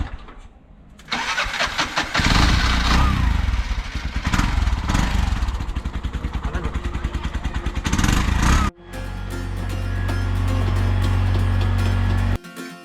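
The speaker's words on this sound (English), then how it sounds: "there's a mechanic here who's opened up the engine and he's trying to kind of fix it or figure out what's going on." A tuk-tuk's small engine, opened up for repair by a mechanic in Sri Lanka, cranks and catches, then runs in a loud, rapid, steady idle for several seconds, briefly cuts out and revs up again.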